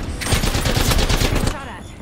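Rapid automatic gunfire in Apex Legends hammers out as a loud, dense burst lasting over a second, then cuts off abruptly into a quieter tail.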